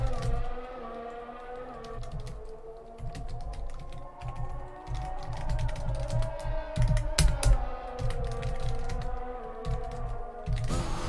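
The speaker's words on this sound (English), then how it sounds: "You can probably hear me clapping away at my keyboard." Fast, steady computer keyboard typing clatters through the whole stretch alongside a continuous engine-like drone from an F1 2021 racing game, the keys close and fairly loud.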